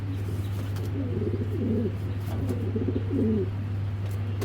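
Soft, low cooing from a pair of large black racer pigeons in repeated rolling phrases, close by, over a constant low hum.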